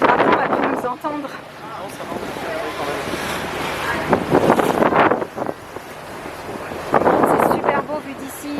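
Gusty wind buffeting the microphone in loud surges, with people talking intermittently beneath it.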